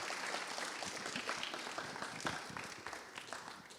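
An audience clapping at an indoor panel salon as guests are welcomed to the stage, a soft, steady patter of applause heard from some distance, fairly faint and even throughout.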